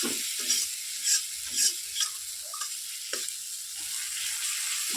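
Tomato sizzles in spiced oil in a pan with already-fried potatoes, a soft continuous hiss punctuated by a few stirring scrapes and clinks, fairly quiet and close.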